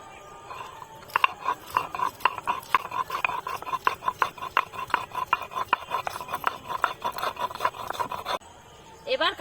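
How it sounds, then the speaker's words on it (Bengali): Ginger and garlic being ground into paste on a stone, a steady run of rhythmic rasping strokes close up for several seconds, then a brief pause and a short burst of scraping at the end. "তাহলে আমি আদা রসুনটা বেটে নেব।"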